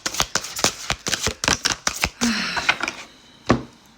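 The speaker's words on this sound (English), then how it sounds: "I'm actually feeling called just to go right to shuffling and see what comes out" Oracle cards are shuffled by hand in a quick run of crisp riffling snaps and flutters, ending in a softer slide and a final tap, with no talking.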